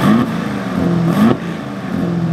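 An Aston Martin DBX engine revved in GT mode, loud exhaust blips rising sharply in pitch and settling back to idle, two or three close, brief revs.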